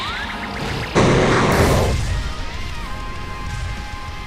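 A sudden loud, broadband rushing burst that holds for about a second and then tapers into a lingering hiss, like a powerful water jet firing.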